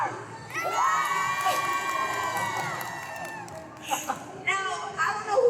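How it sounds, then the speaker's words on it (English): A crowd cheers and screams loudly, high-pitched whoops rising and falling, with a few fresh bursts of shouting near the end. "Make some noise if you're Team Clark."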